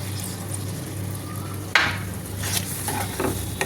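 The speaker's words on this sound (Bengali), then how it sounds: "এটা দিয়ে কিছুক্ষণ একটু কষিয়ে নেব" Pointed gourd stirred and sautéed in oil with a ground paste of milk, poppy seeds and cashews, giving a steady close sizzle with a sharp spatula scrape partway through and a few softer stirring knocks after, no voices.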